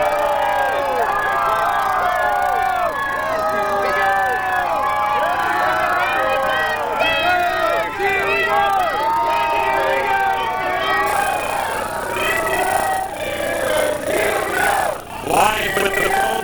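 A crowd of Steelers fans in Pittsburgh's Strip District cheering and yelling loudly on Super Bowl XL morning, a dense sustained roar of many voices and whoops that carries on throughout.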